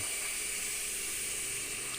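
Water poured into a hot electric pan, giving a steady, close sizzling hiss with a bright steamy edge that holds evenly throughout, with no talking.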